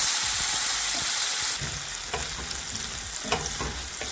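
Pepper drops into hot olive oil in a pan, starting with a bright loud hiss that eases into a steady crackling sizzle with light stirring clicks.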